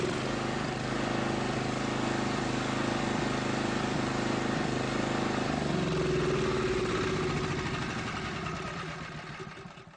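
A 9-horsepower generator engine runs at top no-load speed, a steady loud drone whose pitch wavers and settles midway before the sound fades out at the end.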